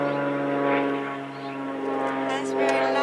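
A propeller airplane drones steadily overhead, a loud continuous hum with strong low harmonics that swells and fades slightly across the few seconds.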